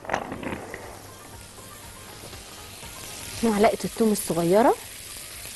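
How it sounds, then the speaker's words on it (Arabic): Chopped onion sautés in a pan with garlic and spices, giving a steady, close sizzle and hiss, while someone talks briefly over it near the end. "والبصل بيتشوح كده"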